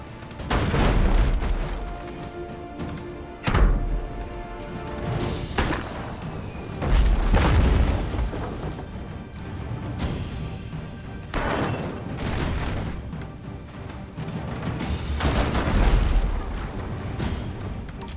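Heavy ship cannons fire in the naval combat game Abandon Ship, deep booming blasts arriving every few seconds in a steady broadside rhythm, loud and close over a rumbling background.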